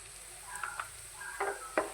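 Garam masala and Kashmiri red chilli roasting in a pan for a soybean badiyan curry, a faint steady sizzle with a few soft stirring scrapes and clicks, heard alone.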